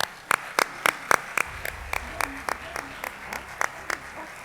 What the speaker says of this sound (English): Let's applaud all of our champions.